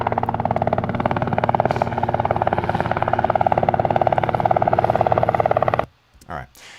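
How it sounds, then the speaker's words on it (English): Steady, loud rotor thrum of a helicopter with rhythmic chopping, running continuously then cutting off abruptly near the end, followed by a brief faint noise. "somewhere I've got like a helicopter sound effect"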